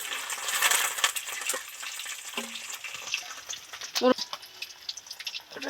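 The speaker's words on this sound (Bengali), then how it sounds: "সরিয়ে মধ্যে একটা শুকনো লঙ্কার একটা তেজপাতা দিয়ে দিচ্ছি" Dried red chili and a bay leaf hit hot oil in a pan, crackling and sizzling with a brief sharper spatter and spoon clinks partway through, with some quiet talk in the background.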